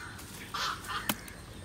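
A bird calling from somewhere overhead outdoors, giving a couple of short, harsh crow-like caws over a quiet background hum, moderately distant, with no talking.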